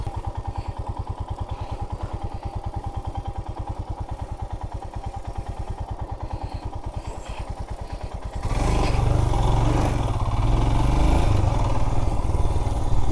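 Royal Enfield Himalayan or Bajaj RS200 motorcycle engine idling with a steady, rapid low thump, then revving up louder and rougher partway through, close by.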